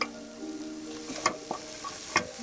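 Meat goes back into a hot pan with translucent onions and garlic, sizzling steadily, with a few scraping stirs and soft clinks from the pan.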